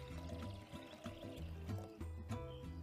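Water pours steadily into a glass container, a continuous gurgling fill with faint ringing tones, heard alone with no talking.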